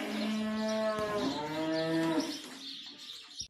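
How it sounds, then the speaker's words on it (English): Cattle waiting on a farm for feed let out two long, close, drawn-out moos back to back, loud and clear, with a short clatter at the end. "Spoiled cows."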